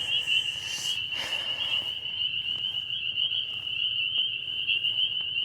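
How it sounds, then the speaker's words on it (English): Spring peepers and American toads call at night in spring after rain, a steady shrill high peeping and trilling chorus running continuously. Scattered brief rustles and knocks sit close by, and there is no talk. "We hear spring peepers right now. We hear American toads off in the background."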